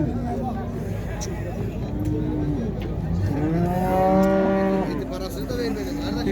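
Pregnant cows moo in drawn-out, tonal calls, with the loudest one rising toward the end, over a steady murmur of background voices and noise at a livestock market in Şarkışla.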